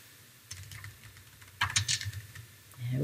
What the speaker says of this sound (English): Type in the name of the account